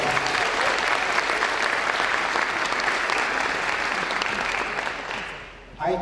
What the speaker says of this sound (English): Let's applaud our amazing mayor, please